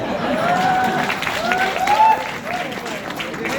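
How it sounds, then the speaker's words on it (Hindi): An audience at a direct-selling training talk breaks into brisk applause that rises and fades over a few seconds, with a voice speaking over the clapping. "वेरी गुड, जोरदार तालियां।"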